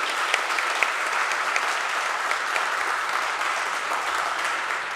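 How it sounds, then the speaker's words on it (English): A college concert audience applauds a freshman organist at a spring wind ensemble and choir concert, a full, even roar of clapping held steady throughout. "Another nice round of applause for Vera Richardson"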